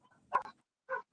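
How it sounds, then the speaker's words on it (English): A German Shepherd barks in the distance, two faint separate barks about half a second apart, alone with no nearby talk. "somebody got a German Shepherd over there going crazy."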